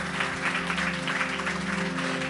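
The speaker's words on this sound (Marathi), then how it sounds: "जोरदार टाळ्या प्रभूच्या गौरवासाठी." A church congregation claps for the glory of the Lord during a Marathi Christian sermon, a fairly faint but sustained patter of applause over a steady low hum.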